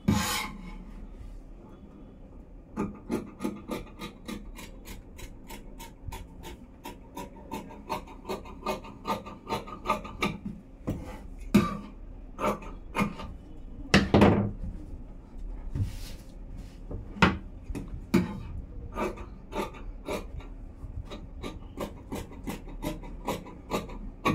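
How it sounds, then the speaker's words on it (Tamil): Scissors cut the back piece of a size 40 blouse on a table: a run of sharp, repeated snips and rasping fabric rubs, close and fairly steady, with no talking. "இப்போ நம்ம பேக் கட்டிங் பண்ண ஆரம்பிச்சிடலாம்."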